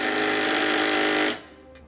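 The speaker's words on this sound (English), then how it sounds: "we can go ahead and snug down our hardware. And I'm gonna be using a 3/4 inch socket" An impact or power tool drives trailer hitch bolts with a 3/4 inch socket while a Curt hitch receiver is installed, giving a loud, steady, continuous whir that stops abruptly after about a second and a quarter.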